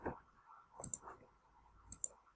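Two quick double clicks from a computer mouse, each a pair of sharp, close ticks, heard during Adobe InDesign table editing over a faint room hum.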